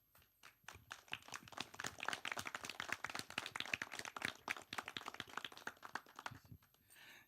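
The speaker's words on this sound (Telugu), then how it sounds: "ఒక్కసారి అందరూ క్లాప్స్ కొట్టండి." An audience at a Telugu film event applauds with sustained, dense clapping that swells, holds steady for several seconds and then tapers off.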